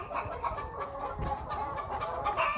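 Chickens cluck in a poultry house of about 300 layer hens fitted with an egg collection line, a busy continuous chatter of many birds at moderate loudness with no talk.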